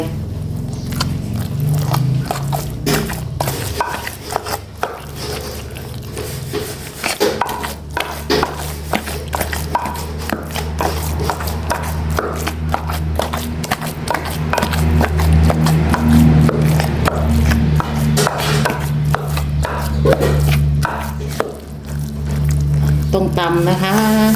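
Fried catfish pounded in a mortar for a spicy salad, a rhythm of repeated thuds and scraping knocks going on throughout while someone talks over it.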